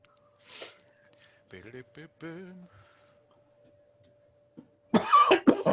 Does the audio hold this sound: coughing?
yes